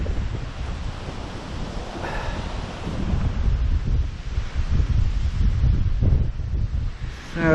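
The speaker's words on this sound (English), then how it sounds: "oh, it is very, very windy, really windy." Strong wind buffeting across an open campsite, a constant loud roar with gusts that swell and rumble against the microphone, heavy and close with no talk.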